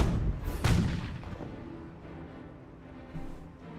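Sector artillery barrage in Company of Heroes: a heavy boom lands early, then rumbling debris and distant battlefield noise trail off over the following seconds.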